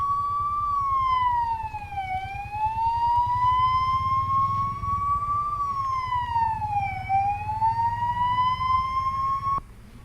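A charitable foundation's ambulance siren wails on a road in Kashmir, a loud continuous two-tone sweep rising and falling slowly over steady engine rumble, then cutting off abruptly near the end.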